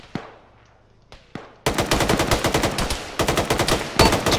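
Machine gun fire in combat: two isolated loud shots, then a sustained rapid burst of automatic fire, close and loud, with a brief pause before it resumes.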